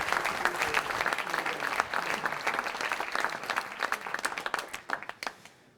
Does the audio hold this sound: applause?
yes